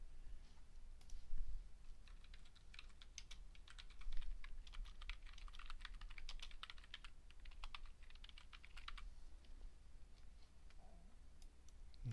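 Fairly faint computer keyboard typing and mouse clicks, with irregular bursts of light key taps and clicks spread over several seconds in a quiet room.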